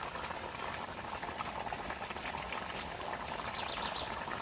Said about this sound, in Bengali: ঝোল খুব ভালো করে ফুটে গেছে